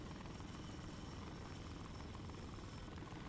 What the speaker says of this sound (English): Hear this helicopter audio.